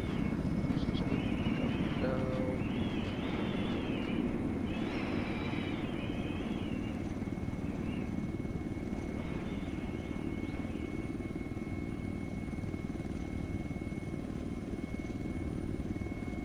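A Wildcat helicopter flies in a video game, a constant low rotor and engine rumble throughout, with voices talking over it and a steady electronic tone in the cockpit.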